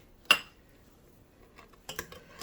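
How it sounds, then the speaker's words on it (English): A spoon stirs a hot sugar mixture with salt and baking soda in a pot, giving one sharp metallic clink and then a few softer scrapes and taps in an otherwise quiet kitchen. "I'm just going to keep stirring."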